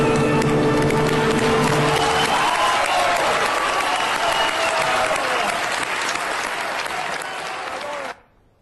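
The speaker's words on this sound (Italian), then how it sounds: "Dagli applausi al grande tenore" An audience applauds tenor Fabio Sartori after his Nessun dorma from Turandot in Treviso. A dense, loud, continuous wash of clapping briefly carries over the fading end of the music, thins slightly, then cuts off abruptly.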